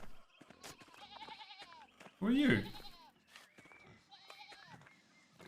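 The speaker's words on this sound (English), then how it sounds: "What's with the sheep here? They're blocking my path." Sheep blocking a path in the video game Pentiment bleat once, loud and wavering, amid soft ambient game sounds, with a short line of spoken dialogue nearby.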